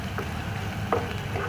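Onions frying to a reddish brown in a pan for a Bengali cauliflower and potato curry, a short steady sizzle with soft stirring scrapes and no speech.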